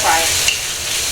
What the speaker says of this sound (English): Stir fry it.